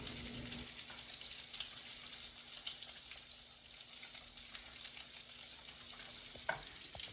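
Bacon and a tablespoon of butter sizzle and crackle steadily in a pan at moderate volume, with occasional stirring sounds and a faint background hum, no talking.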